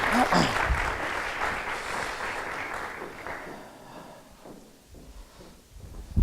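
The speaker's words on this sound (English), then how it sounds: "Oh, that's a weak round of applause." Audience at an education conference session gives a weak round of applause: steady scattered clapping that starts fairly loud and thins out and fades over several seconds, leaving near quiet.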